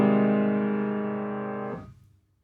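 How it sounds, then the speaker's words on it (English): A low major seventh chord held on an instrument, one sustained rich, thick chord in a low register fading slowly before cutting off with a short trailing decay. "it might be nice to have a really low major 7 chord as an effect."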